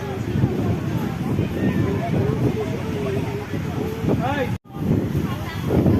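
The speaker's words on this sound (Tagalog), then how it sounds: "lakas ng hangin" Strong beach wind roars and buffets the microphone continuously, with a brief cutout near the end; faint voices can be heard beneath the rush.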